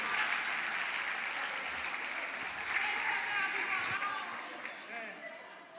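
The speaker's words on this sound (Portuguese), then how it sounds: "Pode aplaudir." A church congregation applauds steadily through the whole stretch, a dense, sustained wash of many hands that eases off slightly toward the end, with faint crowd chatter mixed in.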